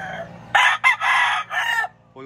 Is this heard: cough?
no